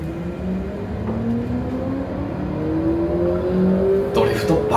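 Simulated race car engine rising steadily in pitch with tire noise while drifting on the Meihan Sportsland circuit in a racing simulator, continuous and fairly loud, with a brief burst of broadband hiss near the end.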